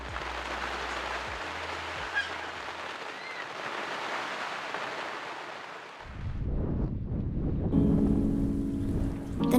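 Steady, dense hiss of rain aboard a boat for several seconds, then the sound gives way to heavy low rumbling and wind buffeting close to the microphone.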